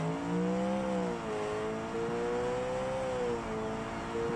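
Car engine in BeamNG racing simulation held at high revs, a steady droning whine that dips slightly and climbs again, loud and continuous with no talking.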